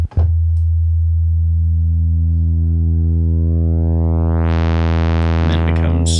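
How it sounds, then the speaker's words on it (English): A steady, clean sine tone from the PK-999, a Casio CZ-style phase distortion synth plugin, holds loud and smooth, its upper harmonics sweeping upward as the timbre shifts before settling. "clean sine wave"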